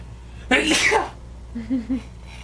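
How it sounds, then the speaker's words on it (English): One loud sneeze bursts out close to the microphone, followed by a few short vocal sounds. "I suddenly felt the urge to sneeze."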